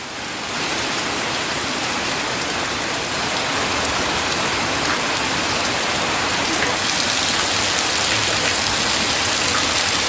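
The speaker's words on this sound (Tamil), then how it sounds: "விழுப்புரம் மற்றும் அதனை சுற்றியுள்ள பகுதிகளில் கனமழை பெய்து வருகிறது." Heavy rain falls steadily across Villupuram district, a dense, even hiss of downpour on surfaces that holds at constant loudness throughout, with no voices.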